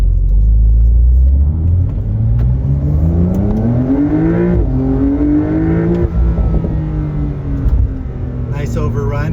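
A Porsche 911 4S in sport mode with its exhaust on revs up through loud, rising engine tones, then drops off into a rumbling overrun with faint crackles near the end, all close and strong.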